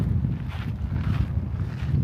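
Strong wind gusts across a campsite among lava rock and craters at Craters of the Moon in Idaho, a steady low buffeting roar that pushes on the microphone throughout, with no talking.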